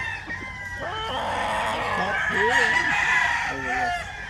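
Several roosters at a breeding yard crow loudly and close, with overlapping long calls and clucks and faint voices in the background.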